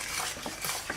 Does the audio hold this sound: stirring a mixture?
yes